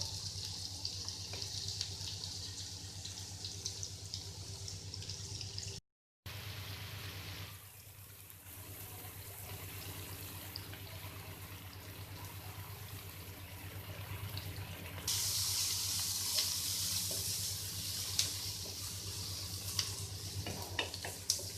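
Onions sizzle and crackle in hot oil in a kadhai, a steady dense frying hiss close by that briefly cuts out, then swells louder as stirring continues, with no talk.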